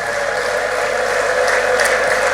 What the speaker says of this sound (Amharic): እስኪ ጭብጨባና እልልታ ለዚህ ጌታ ስጡት።